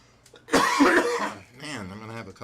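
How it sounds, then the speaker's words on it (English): A man has a short, harsh coughing fit: a burst of rough coughs and throat clearing at close range, followed by a strained, groaning vocal sound. "man, I'm gonna have a coughing fit, of course"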